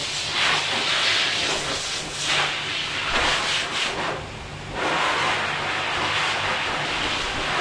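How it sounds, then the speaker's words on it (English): A blow dryer runs steadily on a Bichon Poodle mix dog on a grooming table, giving a loud, continuous airy hiss that swells and dips slightly as the airflow moves over the coat. "I'm going to finish blow drying her on my grooming table"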